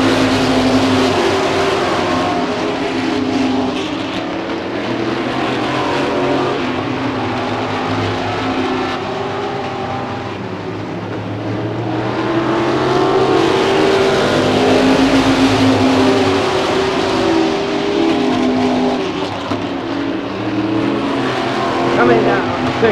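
Weekly stock car racing at Hudson Speedway in 1988: loud engines roar and rise and fall as cars pass, under continuous excited race commentary.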